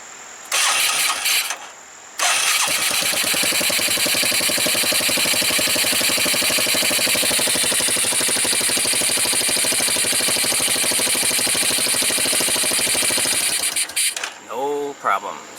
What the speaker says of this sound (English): let's fire this up